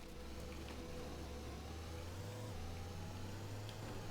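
A small tripod car in the game Teardown, its engine humming at a steady mid pitch with a slight rise in tone partway through, continuous and fairly quiet, no talk.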